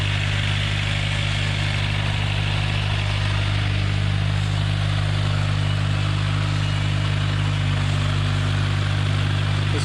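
A turbocharged Honda Civic engine idles steadily on its first start after a turbo and new exhaust header install, a continuous, loud, even drone close by with no notable changes in revs.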